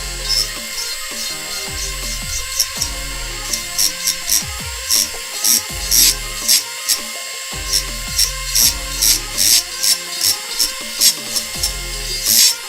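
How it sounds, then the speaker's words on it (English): A rotary tool carves a wood figure, its motor whining steadily while the bit grinds in short, repeated bursts of close, loud rasping as it touches the wood. "when I'm carving in areas like this, it's using a rotary tool"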